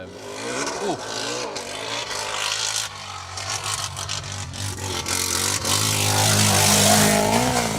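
A rally car engine revs hard and climbs in pitch on an asphalt stage of Rally Ceredigion 2023, its exhaust crackling and roaring louder as it nears, with faint voices in the background.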